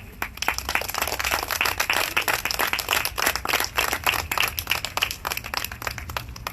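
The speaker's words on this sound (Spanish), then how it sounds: "Le doy un aplauso" A church congregation applauds after a sermon point, a dense run of many hands clapping with quick irregular bursts, fairly close and steady with no talk over it.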